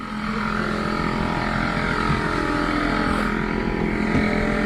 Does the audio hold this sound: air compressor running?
yes